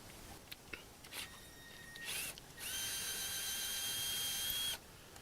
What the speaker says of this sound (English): So now we're going to go ahead and remove these bolts.